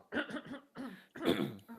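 A voice performs a loud cough in three quick throaty bursts, close and dry, mimicking someone coughing behind a bathroom door in a roleplaying scene.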